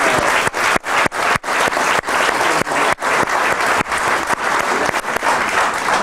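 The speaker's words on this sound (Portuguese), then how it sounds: "E só por isso merecem uma grande salva de palmas." A loud, close burst of audience applause at a motivational talk, many hands clapping vigorously and continuously, with brief sharp dips in the sound.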